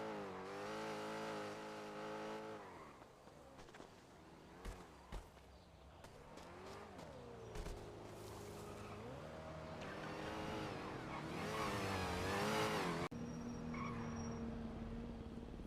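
An engine revs hard with rising and falling pitch sweeps during a GTA roleplay drive on a Nopixel 4.0 server, growing louder toward the end before cutting off abruptly, with a squealing tone underneath.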